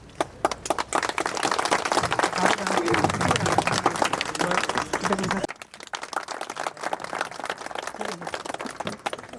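Applause from colleagues at an office retirement party, scattered sharp claps over a busy room with voices talking throughout, briefly dropping then resuming with lighter clapping.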